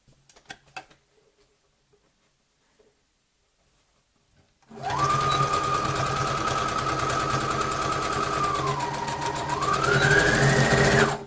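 A sewing machine stitches a large handbag-style pouch, running alone in a steady, close hum for several seconds after a quiet pause, its motor pitch dipping and rising again as the speed changes.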